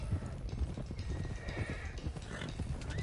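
Horses in a video game whinny over a steady patter of clip-clopping hooves, the animals close and moving briskly throughout.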